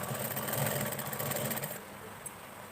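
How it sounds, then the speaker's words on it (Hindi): A sewing machine stitches a slit with a steady, fast mechanical whir that runs for nearly two seconds and then stops, leaving quiet room noise. "यहाँ दूसरी तरफ भी हम लोग सिलाई कर लेते हैं।"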